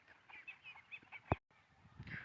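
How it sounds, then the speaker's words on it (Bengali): Khaki Campbell ducks on a duck farm give a few scattered quacks and bird calls at a moderate distance, with one sharp louder sound near the middle and a brief drop to silence. "অনেকগুলো হাঁস এখানে"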